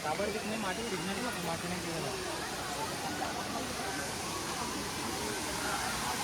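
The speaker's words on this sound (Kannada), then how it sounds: "ನೀರಿನ ಸೌಂಡ್ ನೋಡಿ ಹೆಂಗೆ ಕೇಳಿಸ್ತಾ ಇದೆ" Broad, steady rushing roar of a waterfall at CKM falls, dense and continuous throughout with a faint voice underneath.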